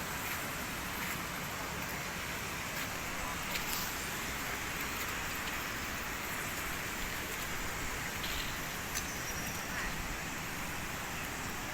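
Steady rain pours outdoors beside the Mekong River near the Pak Mun dam, a dense, unbroken hiss of falling drops filling the whole stretch.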